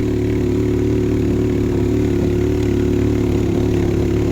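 A motorcycle engine runs loudly and steadily up close, a constant throbbing rumble with no breaks or speech, on a road trip toward Kamandag Falls.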